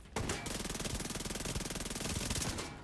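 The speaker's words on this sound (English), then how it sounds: "Oh, that's a turret with frenzy." A video game turret fires in a fast, steady automatic burst. The shots come close and loud and run without a break for nearly three seconds, with no talking.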